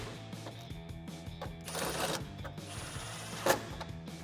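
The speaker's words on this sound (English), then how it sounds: "Tightening those up with a 10mm socket." A ratchet turns a 10mm socket to tighten headlight screws on a 2005-2009 Toyota Tacoma, making quiet, close, rapid clicking with a couple of brief louder bursts.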